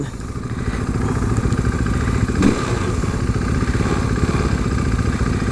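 A modded 2015 KTM RC 390 motorcycle runs close by with a loud, steady idle rumble that holds evenly throughout, broken by a single brief clack around the middle.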